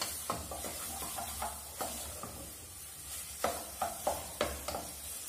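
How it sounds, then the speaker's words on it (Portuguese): Bacon and calabresa sausage sizzle steadily in a pan as polenta toppings cook, with a continuous hiss and several sharper clinks or stirring scrapes near the end. "Deixa assar o bacon, gente."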